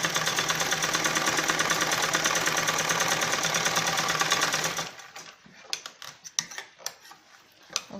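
A sewing machine runs fast and steady for about five seconds, stitching pleats on a balloon salwar, then stops, leaving a few scattered clicks and handling knocks of the fabric.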